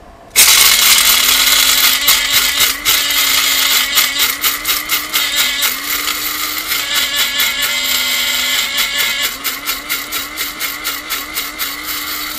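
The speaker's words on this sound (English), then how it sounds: "as soon as you hit go, you're going to start grinding" An electric coffee grinder runs loud and steady on coffee beans for a coarse grind, with a pulsing, rattling whir as the grinder is shaken, continuing for about twelve seconds alone.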